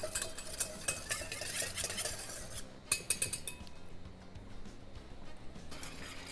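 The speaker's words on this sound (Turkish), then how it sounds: "İyice karıştırıyorum. Hiç topak kalmasın." A spoon scrapes and clinks around a pot of mandarin sauce for a San Sebastian cheesecake, with irregular metallic taps and swishes, close and moderately loud, pausing briefly before a louder burst of stirring.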